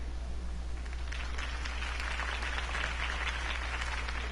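Video game crowd applause, a steady wash of many hands clapping at moderate distance, fairly quiet over a low background hum.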